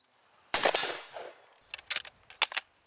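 A single-shot gun fired at an outdoor shooting range: one loud sharp report with a ringing decay, followed by several fainter metallic clanks and knocks, no talking.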